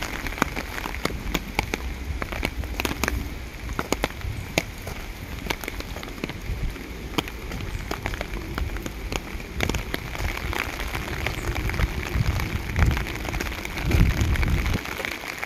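Rain falls steadily and loudly in the UK, a dense patter on surfaces that continues without pause, with no talk.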